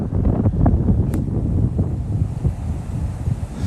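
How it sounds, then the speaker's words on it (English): Strong wind gusts across a park in Fort Lauderdale, a loud, steady roar of buffeting and rumbling against the microphone with no voices. "That's how much the wind is blowing here."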